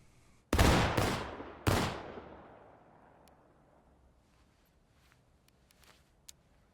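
A musket volley in the War of Rights video game: a loud ragged burst of near-simultaneous shots, a second crack moments later, then a long rolling echo with scattered distant pops.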